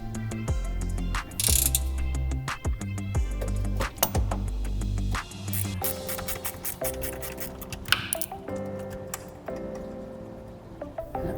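A wrench ratchets and clicks in rapid bursts while breaking free and loosening a rear toe arm bolt, with metallic ticks and clanks close up and fairly quiet, no voices.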